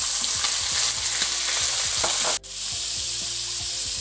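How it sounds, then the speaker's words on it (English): Carp fish tail frying in a pan over medium heat, with cooking wine added. A loud, continuous sizzle carries light stirring clatter, and after a brief sharp dip the sizzle resumes steadily. "As you pan fry it, make sure you prepare 6 cups of hot water."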